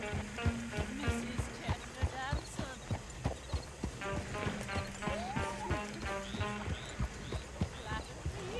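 Stagecoach horses in Red Dead Redemption 2 gallop with steady, rhythmic clip-clopping hooves, close and continuous under talk and a brief whinny.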